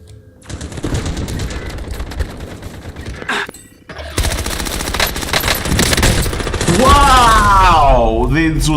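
Rapid automatic gunfire in Call of Duty Modern Warfare on Rebirth Island, loud sustained bursts and rattling shots that drop briefly before resuming heavier, with a rising whine near the end.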